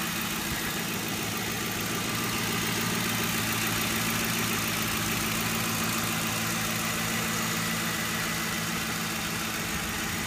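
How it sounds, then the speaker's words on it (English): A 2005 Ford Crown Victoria, a former police car, idles steadily and smoothly with a constant low engine hum and vibration, close and alone. "That's the engine running,"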